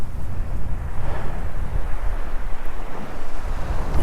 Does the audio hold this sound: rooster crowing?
no